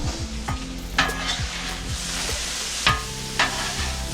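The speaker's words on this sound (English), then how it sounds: "I'm going to add that into the meat and mix it up real good." A meat and rice mixture for stuffed peppers is stirred in a hot pan, with a spoon scraping and clinking against the pan several times over a soft sizzle.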